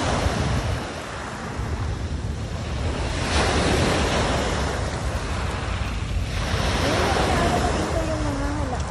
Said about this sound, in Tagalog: Pag malakas ang hampas ng alon,